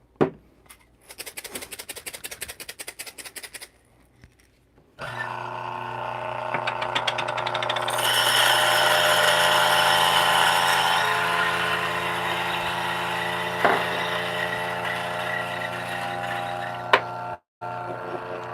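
A DF64 flat-burr coffee grinder fitted with MP burrs grinds coffee beans in a steady, loud whirring drone lasting over ten seconds, preceded by a few short clicks and bursts before the motor settles in.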